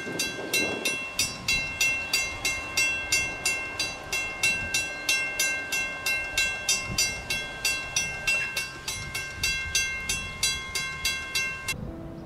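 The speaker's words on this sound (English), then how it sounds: "This is the entry for Amtrak trains coming into Connecticut." An Amtrak train passes Westerly Station in Rhode Island, its horn sounding a long, steady chord while a fast, regular series of wheel clacks pulses loudly nearby until the horn cuts off.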